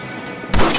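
A single sharp thump of a gunshot fired at a rabbit in Red Dead Redemption, short and close, following a brief quiet moment.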